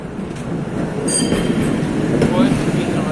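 An old tram rumbles past close by, a steady low roar with faint metallic squeals and clicks of wheels on the rails.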